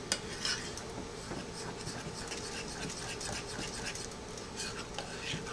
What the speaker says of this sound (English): And then I want to stir.